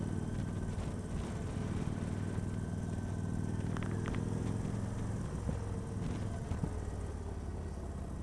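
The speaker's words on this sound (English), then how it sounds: "Yeah, I like that sound of the engine on this one though." Victory Vegas 8Ball motorcycle engine running at a steady idle or cruise, a continuous low, throbbing rumble that holds close and even throughout with no talking.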